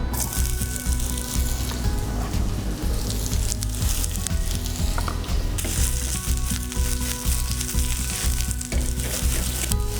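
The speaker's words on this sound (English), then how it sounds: "Let the pan heat up. And we add all the pumpkin into this." Thinly sliced pumpkin fries in hot vegetable oil in a pan, giving a loud, dense, continuous sizzle with crackling throughout.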